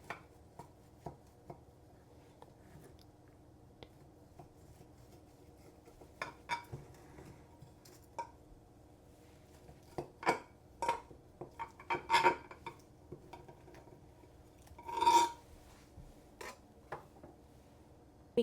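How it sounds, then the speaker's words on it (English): Knife cutting a slice of freshly baked apple cake in its tray, a string of soft close taps and scrapes against the pan, growing busier toward the end. "Just going to cut a slice."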